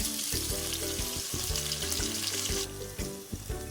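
Ginger, garlic and curry leaves fry in oil with a bright, loud hiss. Repeated low thumps and scrapes of stirring in the pan run underneath, and the sizzle eases slightly toward the end.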